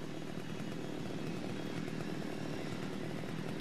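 A chainsaw in the Splatterhouse video game buzzes continuously at a steady, moderate level, a raw snarling motor drone with no talking over it.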